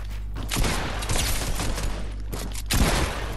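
Dense rapid gunfire from a Fortnite battle, loud and sustained across the whole moment with bursts swelling near the start and again toward the end, over a steady low hum.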